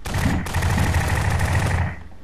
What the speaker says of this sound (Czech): Takovou střelbu.